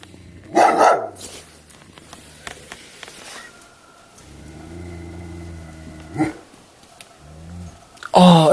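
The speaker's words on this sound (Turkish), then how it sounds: "Köpek sesi." A dog barks outdoors in sheep country in short, loud bursts separated by several seconds, with a steady low droning hum filling the gaps between barks.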